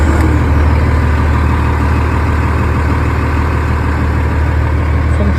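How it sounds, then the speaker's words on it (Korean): A Hanseo Jeonggong mid-size orchard sprayer's engine runs at a steady idle, a loud, continuous low rumble held evenly throughout with no pauses. "시동 한번 걸어 보겠습니다"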